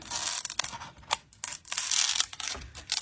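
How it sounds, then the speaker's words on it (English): A pair of scissors cuts through a CD in a run of sharp, crackling snips and crunches, close and fairly loud, with short pauses between the cuts. "And we're just going to take our scissors"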